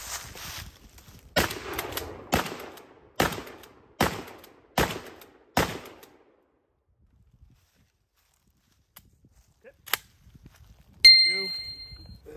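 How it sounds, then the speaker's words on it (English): A shotgun loaded with Fiocchi double-aught buckshot fires six sharp, evenly spaced shots in quick succession. A long near-silence follows, then a single metallic clang that rings out. "I've already got it loaded up with some Fiocchi buckshot, double up buck"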